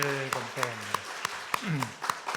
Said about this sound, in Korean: 우리 영광의 박수 올려드리겠습니다.